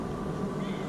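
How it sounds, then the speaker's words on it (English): A small cat gives a short, soft meow outdoors in a Phuket botanical garden, brief and fairly faint. "we got a little kitty coming down to say hello to us"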